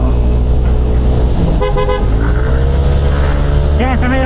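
Busy road traffic near an overpass in Angono, Rizal, with loud engines rumbling close by and several short car horn toots cutting through, while people talk over the noise.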